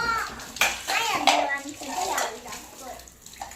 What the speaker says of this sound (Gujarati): વાસણ સફાઈ કરે છે